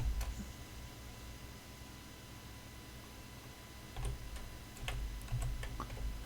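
Faint, sparse keystrokes on a computer keyboard typing into a Word document, with a few quick clusters of clicks near the end over a low steady hum.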